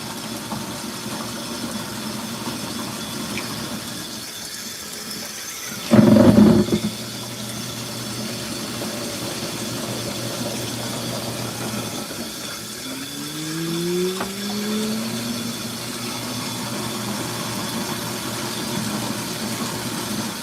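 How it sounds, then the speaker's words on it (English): An LG ThinQ MEGA washer drains water during a hot-wash whites cycle with bedding, a steady low pump hum running throughout, with a brief louder gurgle early on and a rising whine partway through. "I guess it decided to drain again. It keeps draining."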